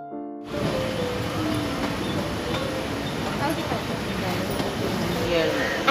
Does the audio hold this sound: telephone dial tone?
no